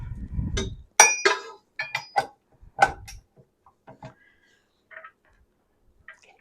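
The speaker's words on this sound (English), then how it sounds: "we're going to attach the regular paddle" A metal paddle attachment is fitted onto a stand mixer in a home kitchen while baking chocolate chip cookies, giving several sharp, close metallic clinks and clicks, then fainter scattered taps.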